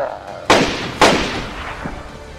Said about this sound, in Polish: To ja strzelam do zombie.